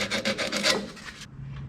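Rough rasping strokes of sanding on a car's bolted-on electrical earth contact at the chassis, on an LC GTR Torana. The scraping is close and loud, in quick repeated strokes, then stops abruptly.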